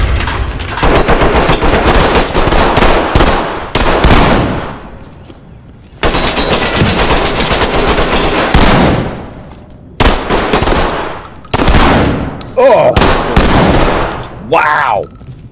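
Gunfire in the tactical shooter game Ready or Not: loud, dense bursts of automatic fire broken by abrupt cuts and short gaps, with sharp single shots and ringing tails near the end.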